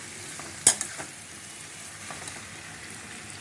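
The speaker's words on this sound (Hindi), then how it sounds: "सब्जी को मुझे हाई हीट पे भूनते हुए कम से कम 7-8 मिनट हो चुके हैं" Pumpkin sabzi sizzles steadily in a pan on high heat, with a few sharp scrapes and clinks of a stirring spoon near the start and a soft frying hiss throughout.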